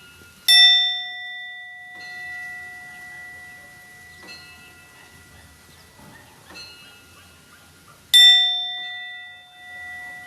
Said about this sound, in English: try to ring the bell and totally concentration on the bell